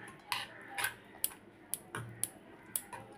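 A ladle mixing flour and semolina in a bowl for mango fritters: soft, regular clicks and taps of the ladle against the bowl, repeating about twice a second, faint and close.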